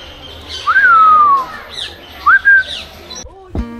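A parrot or cockatoo at Gazipur Safari Park gives two loud, close squawks with a rising-then-falling whistle tone, a pause between them, over steady background ambience.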